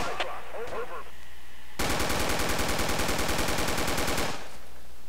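Sustained automatic gunfire in the tactical military shooter Project Reality, a loud rapid burst of machine-gun fire lasting a few seconds after quieter ambient battle noise, then cutting off.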